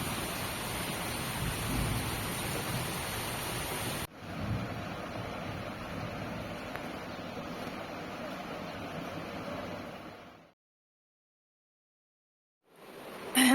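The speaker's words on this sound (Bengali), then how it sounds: "চলো তাহলে বৃষ্টিটা হোক যতক্ষণ হবে ততক্ষণই আমাদের ভালো" First monsoon rain of the season, a dense broadband hiss of falling rain mixed with wind, loud and continuous, briefly breaking near the end before returning.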